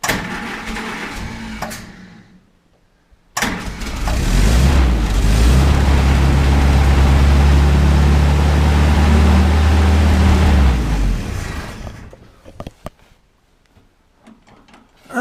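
A Ford GPW jeep engine with a sticking choke cranks and catches, then runs loud and rough for about seven seconds with a strong low rumble before cutting out, followed by quieter clanks and shuffling.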